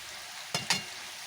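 Small bata fish go into very hot oil on a flat pan, giving two quick, sharp sizzling bursts close by, then a faint background hiss.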